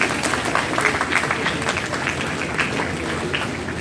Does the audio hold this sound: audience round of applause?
yes